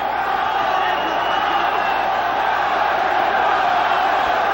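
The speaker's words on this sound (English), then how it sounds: "The crowd again tries to summon up something for Chavez." Boxing arena crowd roaring for Julio Cesar Chavez during a bout with Kostya Tszyu, a loud continuous wall of cheering and shouts with a voice talking over it.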